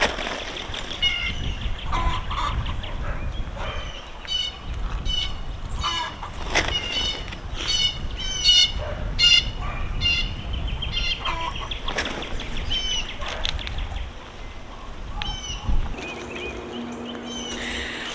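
Chickens around a fenced spring garden in Oklahoma, with clucks and squawks and bursts of wing flapping scattered throughout, fairly close and lively, with no one speaking.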